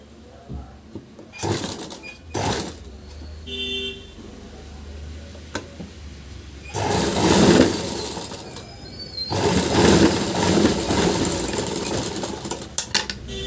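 A sewing machine stitches a blouse in two long whirring runs, close and fairly loud, separated by quieter handling, clicks and short bursts of adjustment.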